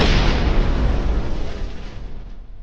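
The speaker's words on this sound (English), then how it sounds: "A kamikaze drone attacks the APC." A kamikaze drone strikes an armored personnel carrier in a single loud, close blast whose roaring, broadband rumble decays gradually over a few seconds.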